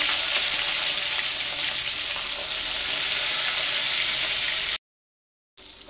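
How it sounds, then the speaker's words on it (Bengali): Catla fish pieces frying in hot oil give a steady, loud sizzle that runs without a break, then cut out abruptly near the end. No voices are heard. "ওই তেলের মধ্যে আমি মাছগুলো আবার দিয়ে দিচ্ছি। মাছগুলোকে আমি দুবারে ভেজে নিলাম।"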